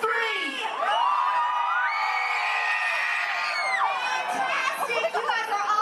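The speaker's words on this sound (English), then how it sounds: "I want to hear a big green team scream on 3." A crowd at a Disney theme park show screams and cheers together on a count of three, children's shrill yells and whoops swelling into a sustained loud roar that wavers and breaks into scattered shouts.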